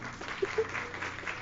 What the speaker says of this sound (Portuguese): Uma salva de palmas para essa mulher.